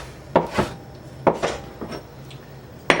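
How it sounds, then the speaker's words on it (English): A kitchen knife chops cooked chicken on a cutting board for a hearty chicken soup: three or four crisp, close knocks in an uneven rhythm, each a sharp thud with a short scrape, with quiet gaps between them. "take my knife and run a Nice quick chop through it"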